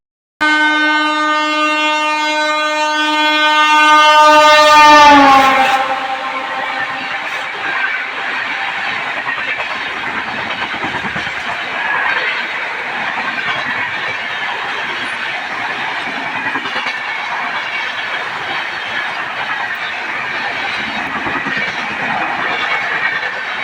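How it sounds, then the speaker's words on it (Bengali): A train pulls away on the adjacent track beside a stationary train, opening with a loud sustained horn blast that cuts off, then a long steady rumble of wheels and rolling cars close by. "পাশ দিয়ে ট্রেন ছেড়ে দিচ্ছে"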